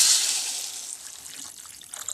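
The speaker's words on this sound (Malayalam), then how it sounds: "പിന്നെ കുറച്ച് വെള്ളം ഒഴിച്ച്" A short stream of water splashes and trickles into a pan for cooking noodles, loudest at first and thinning to a soft dribble.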